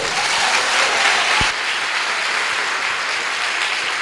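A church congregation at a Foursquare service in Governador Valadares applauds steadily, a dense wash of clapping from a crowd that holds an even level throughout.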